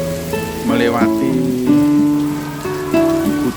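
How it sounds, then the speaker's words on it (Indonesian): Heavy rain falls as a steady, dense hiss that runs through the whole stretch, mixed with sustained melodic musical tones that swell and shift above it. "hujan deras, rintik-rintik deras, dan suaranya begitu jelas"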